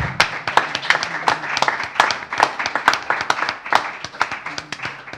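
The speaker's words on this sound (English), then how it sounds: "I hope you're applauding" Scattered audience applause at a creative music event, a loose pattern of distinct individual claps rather than a dense wash, fairly close and moderately loud.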